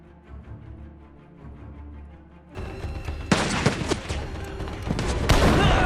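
A quiet passage in a Japanese samurai war film gives way to loud, dense gunfire, with sharp cracks and bursts layered over a roaring, chaotic battle din.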